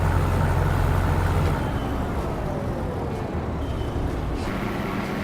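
A Volvo F88 truck in Euro Truck Simulator 2, its engine droning loud and close beneath a steady roar of surrounding road traffic, easing off slightly partway through.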